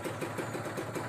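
A cold Kawasaki Ninja two-stroke engine idles after sitting unused for two days, giving a steady, close buzzing putter with a quick regular pulse and no voices.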